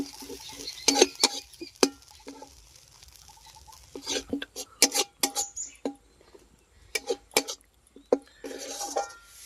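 Paneer posto being stirred in a pan, sparse irregular clicks and scrapes of a spoon against metal in quick clusters separated by quiet gaps, close and fairly light.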